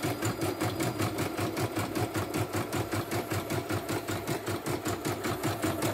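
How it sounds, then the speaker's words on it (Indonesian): A portable YOKO multifunction embroidery machine runs steadily during a test, its rapid, even needle stitching pulsing continuously at close range with no talk. "Jadi kita tes berkali-kali itu mesinnya."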